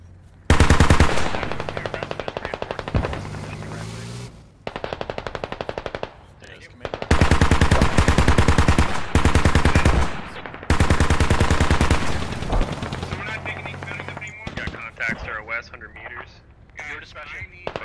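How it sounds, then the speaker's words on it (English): BTR armored vehicles fire machine guns in the military video game Squad, with long loud sustained bursts broken by short gaps and radio-style voices talking over the gunfire. "BTRs, you're free to fire on enemy spotted"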